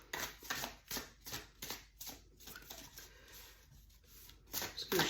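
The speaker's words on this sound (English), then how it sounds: "Just gonna shuffle to tune in." Tarot cards are riffled and shuffled repeatedly in quick rhythmic bursts, close by, with brief pauses between rounds.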